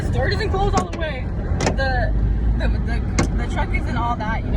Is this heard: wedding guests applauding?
no